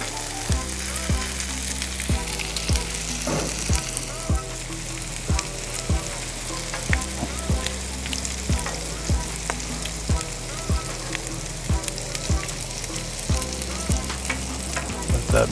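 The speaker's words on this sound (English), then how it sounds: "Bacon crisp up a little bit more." Bacon fries on a Blackstone griddle, a loud, continuous close sizzle and crackle over a steady rhythmic thumping pulse that repeats about every second.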